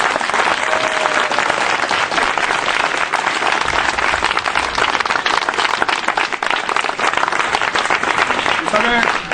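Loud, sustained applause from a church congregation fills the space, dense and continuous clapping with crowd noise throughout, and some voices mixed in under it.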